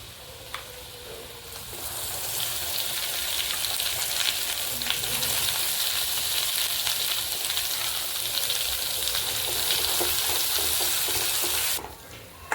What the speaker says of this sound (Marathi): इथे जी आपली फोडणी आहे मसाल्याची ते आता चांगलं परतून घेतली आहे